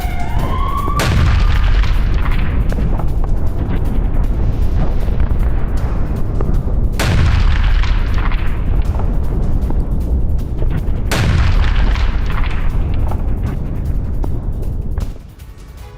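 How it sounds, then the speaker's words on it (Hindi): Explosions from a Russian drone bombardment of Ukrainian trenches on the Donetsk front: three loud, deep blasts several seconds apart, each fading into a long rumbling roar. "रूसी हमले ड्रोन से की यूक्रेनी खंदकों पर बमबारी"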